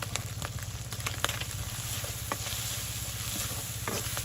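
Small icha fish (tiny shrimp) fry in a pan with salt and turmeric for village-style cooking, giving a constant close crackling sizzle with small pops and no voices.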